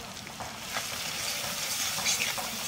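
Spices with salt and turmeric frying in a pan for a duck egg curry, giving a steady, close sizzle with faint scraping stirs throughout, no talking.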